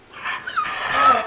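A dog whimpering and yipping close by, a short run of high, whiny cries rising and falling over about a second.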